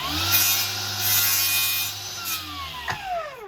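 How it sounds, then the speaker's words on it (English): A mitre saw slices through a piece of timber, its blade whining steadily for a few seconds before spinning down with a falling tone, loud and close with no voices. "Put it in your mitre saw, line your blade up."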